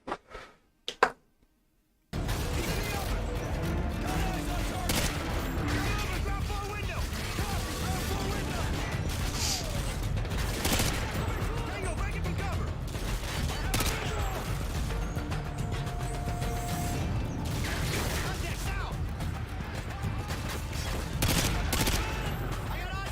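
Rapid gunfire fills a first-person video game battle, dense bursts of loud shots and impacts running almost continuously after a short quiet opening, with a voice talking underneath.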